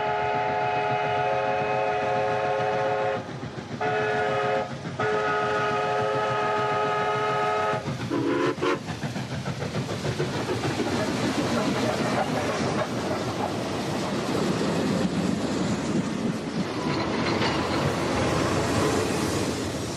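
A train pulls in somewhere in British Columbia, sounding a long horn blast with brief breaks, then rumbling and clattering close by as the cars roll past.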